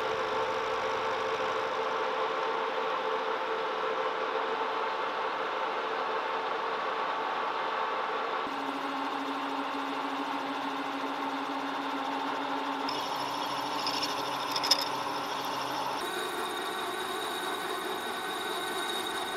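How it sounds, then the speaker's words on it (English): A steel part being chamfered with a new tool, a steady close mechanical whir that holds for long stretches and shifts pitch in distinct stages, with no talking. "I'm going to chamfer it, and it is a good opportunity to try out my new tool"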